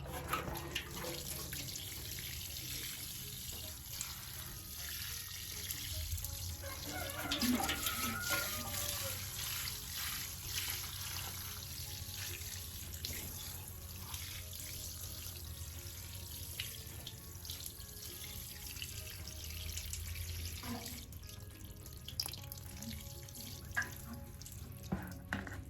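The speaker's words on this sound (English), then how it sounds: "only thing we have to do is to water it in" Water running steadily from a hose or can onto a newly planted garden container, a continuous close splashing and trickling wash lasting the whole stretch, with no talk over it.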